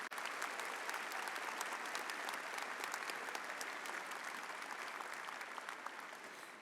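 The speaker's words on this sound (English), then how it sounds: "Let's give them all a round of applause" A commencement ceremony audience breaks into sustained applause, a dense wash of many hands clapping at steady loudness that thins slightly toward the end, with no voices standing out.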